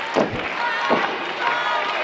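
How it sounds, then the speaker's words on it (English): A crowd chants in rhythmic waves at a wrestling show in the Scottish Rite Temple, loud and steady throughout with cheering underneath. "Whitey's chant breaks out here in the Scottish Rite Temple."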